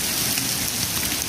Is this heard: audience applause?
no